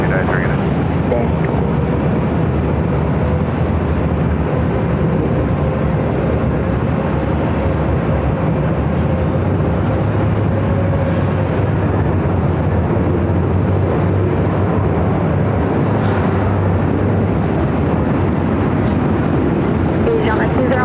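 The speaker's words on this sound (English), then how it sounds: "Next takeoff here on the north side of LAX." Airliner taking off from runway 24 left on the north side of LAX, a continuous broad jet roar with a faint tonal whine, steady throughout, while a voice talks over it.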